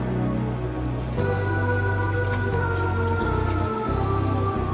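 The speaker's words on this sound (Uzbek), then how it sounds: "Endi qozonga suv solamiz." Water is poured into a cooking pot holding fried tomato, bell pepper, carrot and potato for moshxo'rda soup, giving a loud continuous rushing splash and sizzle with no talking.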